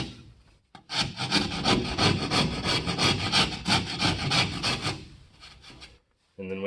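A rasp file scrapes back and forth against the edges of a drywall box cut-out in quick repeated rubbing strokes, close and loud, for about five seconds before falling silent.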